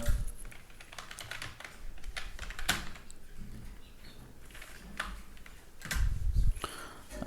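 Rapid keystrokes on a computer keyboard while searching for a number icon during a graphic design session, clicking in uneven bursts with brief pauses, close and fairly steady throughout.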